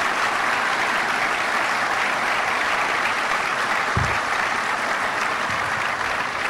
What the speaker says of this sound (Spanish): Y un gran aplauso aquí, por favor